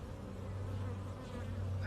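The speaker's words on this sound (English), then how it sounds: "we'll check in one last time with the bees" Honey bees buzzing steadily around a hive on a farm, a close continuous drone with no talk.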